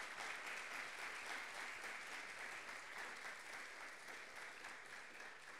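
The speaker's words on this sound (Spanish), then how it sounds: "Creo que se merece un, un aplauso por parte de todos." A conference audience applauds a speaker named Rosendo after a talk on very tall buildings, producing steady, dense clapping that fills the room evenly for several seconds at a fairly soft, distant level.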